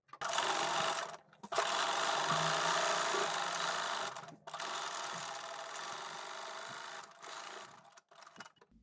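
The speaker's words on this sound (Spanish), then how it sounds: "Y ahora cosemos todo el bajo." A sewing machine stitches the hem of a fabric bag in several quick bursts of rapid, buzzing whir, each separated by brief pauses, fairly close and fairly quiet.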